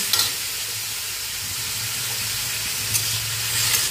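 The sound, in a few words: salad vegetables with salt being stir-fried in pan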